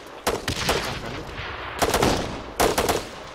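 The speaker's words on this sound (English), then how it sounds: "Continuing suppressing fire." Suppressing gunfire comes in three sharp, loud bursts of rapid shots with short pauses between them, echoing slightly.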